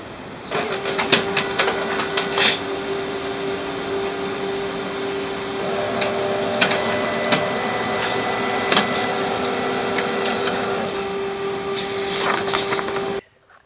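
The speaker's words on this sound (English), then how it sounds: "Let's do a print test page." An HP Color LaserJet Pro MFP M283fdw laser printer runs a test page, giving a steady mechanical whir and hum with repeated clicks and feed clunks, close and moderately loud, stopping abruptly at the end.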